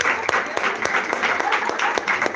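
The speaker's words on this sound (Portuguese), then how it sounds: "salve de palmas." A church congregation claps in quick, roughly regular beats, several sharp hand strikes per second, mixed with overlapping voices talking throughout the short burst.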